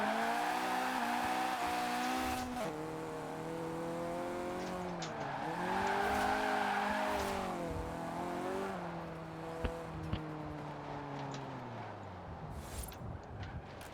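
A Fiat 131 (Tofaş 131) in the Forza Horizon 4 racing game drives on, its engine droning and rising through revs with gear changes and brief tire squeal, close and continuous.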